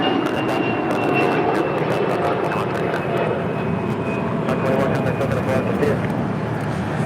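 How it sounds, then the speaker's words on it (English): Delta Airbus A320 airliner taking off at LAX, bound for Dallas Fort Worth: a steady, loud broadband engine roar holds throughout, with a faint tonal whine on top and scattered clicks, voices murmuring underneath. "This is Delta 521 taking off to Dallas Fort Worth on an A320."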